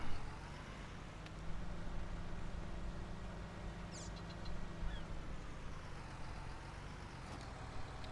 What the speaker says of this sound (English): Tractor is running, seeder is running.